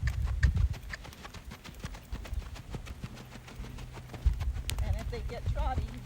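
Hooves of a Rocky Mountain horse clip-clop in a steady saddle gait, moderately close, with a person talking over the hoofbeats and faint birds in the background.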